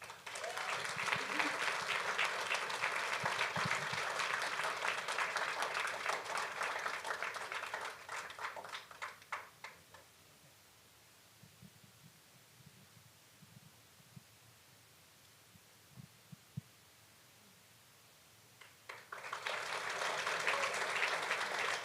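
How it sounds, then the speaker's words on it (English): Audience applause at a fall university speech showcase, a steady, dense clapping that runs about ten seconds, fades to near silence with a few stray sounds, then swells again near the end. "another round of applause for John Murdoch"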